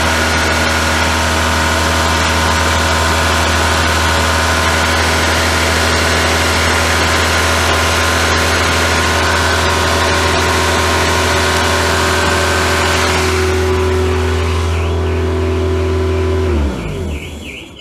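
A Volkswagen Scirocco MK2 engine running loud and close, a steady droning idle with a rising rev near the end before it cuts off.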